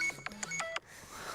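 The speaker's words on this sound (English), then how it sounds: "That's my alarm." An alarm goes off with a quick series of short electronic beeps, a few rising and falling tones in a rapid burst, then fades into faint background hiss.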